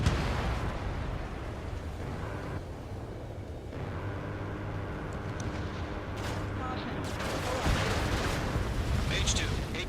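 Gunfire and explosions pound a base in an F-16 flight video game, a dense, continuous barrage of booms and shots with bursts of crackling, mixed under radio chatter and cockpit warnings.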